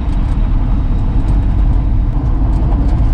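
A 1966 Ford F100 pickup truck drives steadily with a loud, continuous rumble of road and tire noise louder than its low engine and exhaust drone, no voices.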